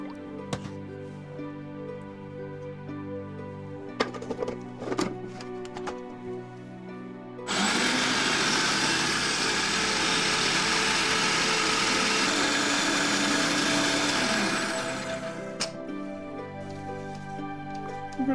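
Blender whirring through a vegan chocolate mousse cake filling, a steady loud grinding burst lasting several seconds between quieter kitchen clatter and drips, close by with no talking.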